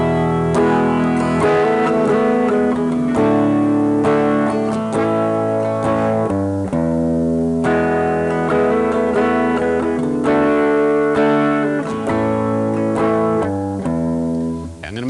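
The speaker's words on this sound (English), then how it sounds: "I'm going to be playing along to a progression that sounds like this." An electric guitar strums through a sequence of sustained chords, full and continuous with a slight edge, no talking over it.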